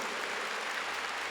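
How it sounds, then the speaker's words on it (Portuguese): Sustained applause from a church congregation, even and continuous clapping filling the whole moment. "Vamos aplaudir o Senhor, vamos aplaudir isso que Santo Agostinho disse."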